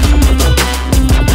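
Synths and bass with OTT compressor plugins switched off, a loud dense electronic mix with a steady low bass drone and rhythmic bright synth bursts over a short looping phrase, no voices.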